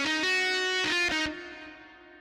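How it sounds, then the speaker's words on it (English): A Yamaha Genos keyboard playing its electric guitar voice gives a few bright, distorted sustained notes that swell and then fade away, with no talking. "I'm going to go into electric guitar."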